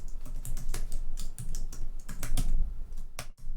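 Close, crisp keystrokes on a computer keyboard come in an irregular run of quick taps with short gaps, loud against a quiet background.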